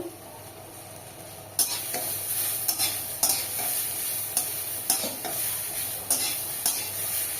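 Ridge gourd peels stir-fried in a pan: after a quiet start, a steady sizzle begins, broken by repeated scraping stirs of a spatula, fairly close and with no talking.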